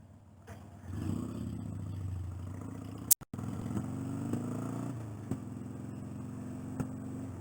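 Motorcycle ridden through traffic, engine droning and rising in pitch as it accelerates, with a sharp knock partway through and occasional clicks over steady road noise.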